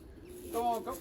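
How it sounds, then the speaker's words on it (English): Racing pigeons coming in at the loft, soft low cooing rising near the end of a short moment over faint background murmur. "gonna be quite a lot of birds here"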